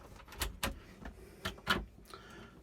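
A large angled drawer under the kitchen sink of an Oregon camper slides on its runners, giving several close, soft clunks and rattling rolls spaced about a second apart, with no talking.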